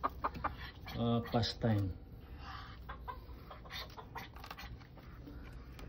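Chickens on a small farm cluck and call close by in a short burst, then fade into quieter background scratching while a person talks nearby.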